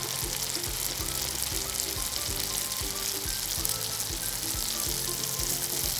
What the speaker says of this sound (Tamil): இப்போ இதில் நம்ம ஒவ்வொரு காலிஃப்ளவராக எடுத்து போட்டு பொரிக்க ஆரம்பிச்சிடலாம்